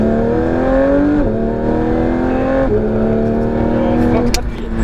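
Porsche GT3 engine held on light throttle around a race circuit, a steady loud in-car drone with pitch rising slowly, dipping at two shifts, then climbing again, with faint voice under it.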